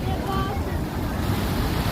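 Sea waves breaking on Kanyakumari beach, a dense continuous roar of surf mixed with gusty wind buffeting the microphone, close and loud throughout.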